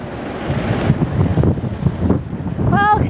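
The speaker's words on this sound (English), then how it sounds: "It's really windy all around the city" Strong coastal wind in Wellington buffets the microphone in loud, continuous gusts, with a faint voice briefly audible near the end.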